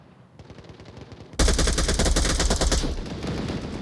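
Rapid automatic gunfire in the VR shooter game Onward, with a quieter burst followed by a sudden, loud sustained volley of overlapping shots that continues before thinning out slightly.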